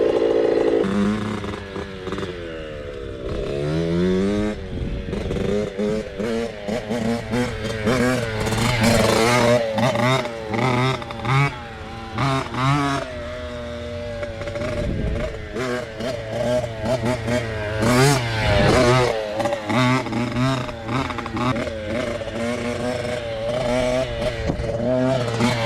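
Yamaha YZ85 and YZ65 dirt bikes ride nearby, their two-stroke engines revving up and down through gear changes with rising and falling pitch, loud and continuous, with occasional clatter from the track.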